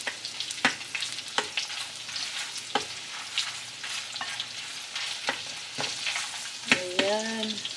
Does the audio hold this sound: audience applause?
no